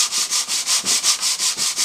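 Wood on an antique telephone being hand-sanded along the grain: close, loud, rhythmic back-and-forth rasping strokes, about ten in under two seconds, with nothing else heard.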